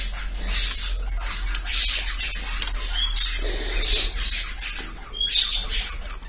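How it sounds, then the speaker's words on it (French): Agitated birds squawking and chirping in bursts at varying distances over a steady low hum, with no talking. "J'ai les oiseaux qui s'affolent."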